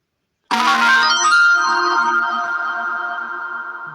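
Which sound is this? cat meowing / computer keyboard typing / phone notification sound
phone notification sound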